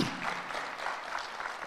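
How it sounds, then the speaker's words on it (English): A crowd at a youth entrepreneurship expo gives a brief round of applause, a steady wash of clapping heard at a distance and fairly quiet, with no talk over it. "Can we give him a round of applause?"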